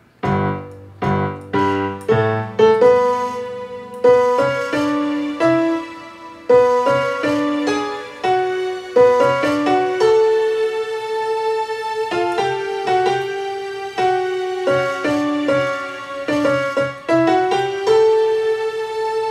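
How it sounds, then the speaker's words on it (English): A synthesized piano plays rhythmic chords and melody, with soft sustained strings underneath, clear and steady with no talking. "it sounds like both a piano and some strings in the background"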